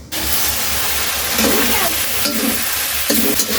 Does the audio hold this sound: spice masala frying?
yes